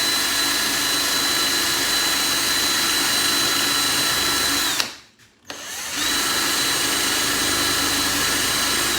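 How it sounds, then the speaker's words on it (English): A power drill whines steadily at high speed, stops briefly for about a second, then resumes its continuous drilling whir, loud and close. "I'm gonna get the drill bit in first."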